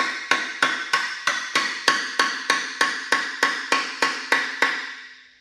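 A hammer taps a tight steel pin on a wood splitter in about fourteen evenly spaced, ringing metallic strikes, close and fairly loud, the last one fading out with no speech.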